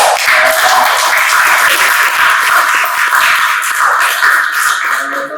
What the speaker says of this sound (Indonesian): Bagaimana kita memberikan apresiasi tepuk tangan